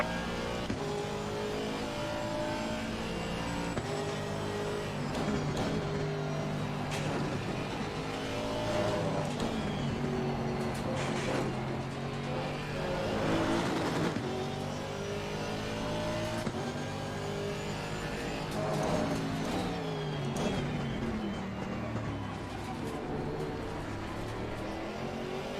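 GT3 race car engines roar in Assetto Corsa Competizione, several cars close together with sustained loud revving, rising and falling harmonics as they shift gears and jostle for position throughout, no talking.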